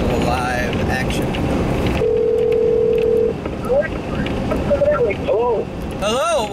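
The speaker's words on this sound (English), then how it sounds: "let's see if we can rouster him up on the cell phone and do a little live action" A cell phone call is placed from outdoors during firearm deer season, giving a steady dial tone followed by short warbling ring tones, all over constant wind noise and outdoor rumble.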